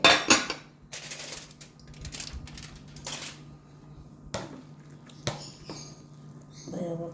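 Scattered clinks and scrapes of utensils against dishes as chicken biryani is served into a dish, a few sharp knocks and rattles spaced irregularly, with a faint hum underneath.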